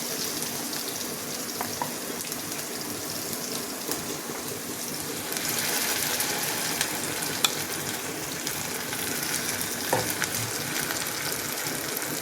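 Idli batter with sesame seeds and soaked chana dal poured into a hot pan, sizzling and crackling steadily at a quiet level, the frying growing slightly louder partway through with a few small pops and no voices.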